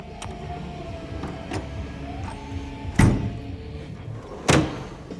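An old S&K toolbox's hammer drawer opening in a workshop, with two sharp metallic thumps and rattles standing out over steady low background noise and a faint tonal hum.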